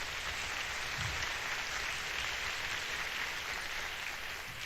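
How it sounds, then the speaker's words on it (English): The audience at the Africa Forward Summit 2026 applauds in a large hall, a continuous even wash of clapping that sounds fairly distant and soft. "Please give yourselves a round of applause."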